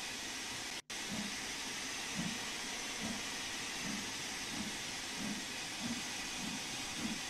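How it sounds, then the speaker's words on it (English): A steam locomotive's safety valve blows off in Train Sim World 2, a loud continuous broadband hiss dominating the scene, briefly cut out near the start, with faint rhythmic chuffs pulsing underneath. "Shut up, safety valve."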